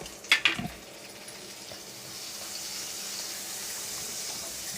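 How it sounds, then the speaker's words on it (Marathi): Butter sizzles and fries in a pan while making pav bhaji, starting with a few sharp crackles and clatters, then settling into a steady soft hiss that grows slightly louder. "मी पॅन ठेवलं आहे, त्याच्यामध्ये बटर घालून घेऊया."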